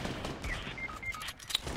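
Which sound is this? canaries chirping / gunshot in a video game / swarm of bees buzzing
gunshot in a video game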